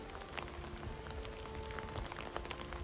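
Rain falling outdoors at a rocky nature site in Finland, a faint, steady patter of drops with soft scattered ticks and no voices.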